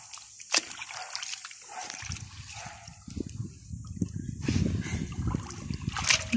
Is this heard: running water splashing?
yes